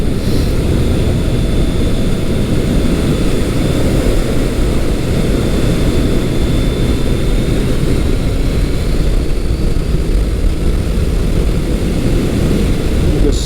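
A Kawasaki ZRX1200R motorcycle ridden through a set of twisty corners, its engine a steady loud drone mixed with heavy wind rush, continuous and close for the whole stretch.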